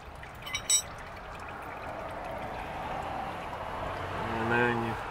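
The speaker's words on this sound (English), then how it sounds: "Let it drain out." Used engine oil drains from a 2016 Honda CR-V Special Edition during an oil change, making a steady, close pouring trickle that swells slightly near the end, with a brief voice at the very end.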